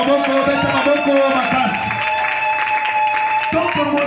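A church congregation applauds during a Sunday worship service, a dense steady clapping from the crowd with a voice talking over the first part.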